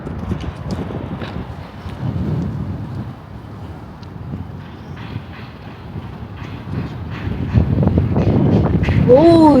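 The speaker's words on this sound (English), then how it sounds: "Oh, it's windy." Wind gusting across a microphone on a bridge over the Han River in Korea, a steady rumbling buffet that grows louder toward the end, with faint background sounds beneath.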